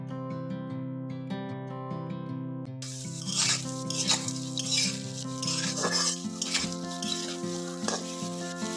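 Capsicum hits a hot pan with fried peanuts and starts sizzling loudly, frying steadily with occasional stirring over soft background music.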